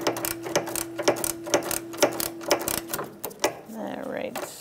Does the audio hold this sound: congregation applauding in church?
no